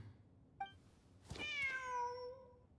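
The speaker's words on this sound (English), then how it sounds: "Wait, there it is! The cat!" A cat meows in Genshin Impact: one short high call, then a longer, louder drawn-out meow with a falling, harmonic-rich pitch, fairly close and alone.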